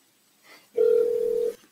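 A single steady tone holds for just under a second after a faint click, loud and close, much like a handset line tone or dialing signal, while calling the Activision tip line.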